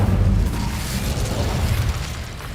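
The Incendio fire spell in Hogwarts Legacy goes off as a loud, deep roaring blast. Its rumbling burst holds strongly and then tapers slightly, with no talking over it.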